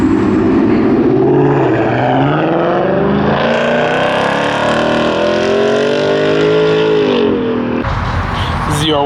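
A modified Ford Mustang muscle car rolls out at a Texas car show, its engine loud and close, with a rumbling exhaust rising and falling in pitch as it revs, then cutting to a brief sharper burst near the end.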